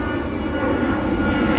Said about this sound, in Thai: เสียงเครื่องบินนะค่ะ